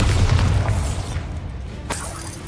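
A Bombarda spell blast in Hogwarts Legacy, a heavy booming explosion with crackling debris that decays, followed by a brief shattering burst near the end.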